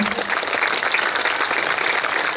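Audience at a children's festival claps steadily, a dense, even patter of many hands sustained throughout at moderate loudness.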